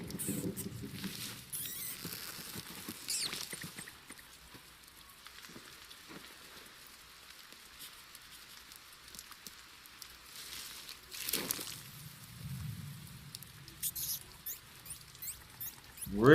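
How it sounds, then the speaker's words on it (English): Rain in the animated series RWBY patters softly and continuously, a faint steady drizzle with a few louder rustling bursts partway through. "And it's raining."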